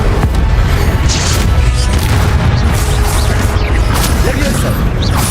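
Fire spell Incendio cast in Hogwarts Legacy, a loud sustained whooshing roar with low booming rumble and crackle, continuous over several seconds amid game combat noise.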